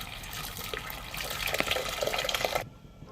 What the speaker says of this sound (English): I'm adding some boiling water from the kettle into this big pot